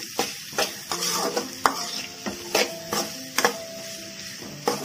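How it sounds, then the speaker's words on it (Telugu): Metal spoon stirring and scraping salted carrot fry in a pan, several sharp scrapes and clanks at an irregular rhythm over a soft sizzle, close and loud with no talking. "నేను ఇక్కడ రెండు టీ స్పూన్ సాల్ట్ వేస్తున్నాను బాగా కలుపుకోవాలి"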